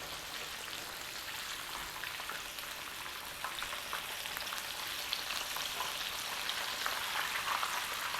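Chicken pieces fry in a pan for fried chicken, giving off a dense, steady sizzle and crackle throughout with no voices.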